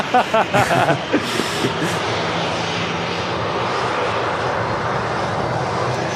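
An Airbus A380 landing at Manchester Airport gives a loud, sustained jet engine roar that fills the scene, with brief voices speaking at the start.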